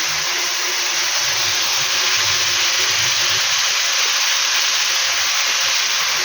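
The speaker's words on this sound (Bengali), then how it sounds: "তো এখানে আলু ভাজাটা করে নিই" Potatoes frying in a pan in a home kitchen, a steady, loud, even sizzle and hiss that fills the whole stretch without a break or any voice over it.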